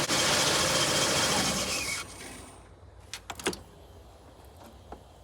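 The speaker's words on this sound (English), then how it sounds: "we're going to disconnect the negative and the engine's going to shut down." A loud, steady car engine hum cuts off abruptly when the negative battery terminal is disconnected, a sign of a bad alternator, leaving quiet room tone broken by a few short clicks and knocks.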